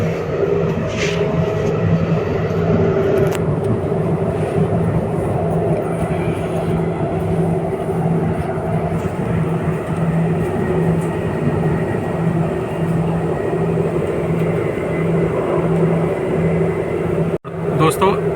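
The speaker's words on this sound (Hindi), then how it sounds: "चलिए बैठते हैं और ट्रेन का स्पीड को एंजॉय करते हैं" An RRTS rapid rail train runs at speed between Muradnagar and Chota Haridwar, heard from inside a nearly empty coach as a steady, loud rolling drone with an even mechanical hum throughout and a brief dip near the end.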